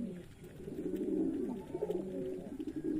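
Giribaz pigeons coo in a soft, continuous low murmur of overlapping calls, moderately near and steady throughout, with no voices.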